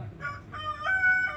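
A chicken gives a series of short, nasal clucking calls that rise into a drawn-out crowing note, fairly faint and somewhat distant, with no talking over it.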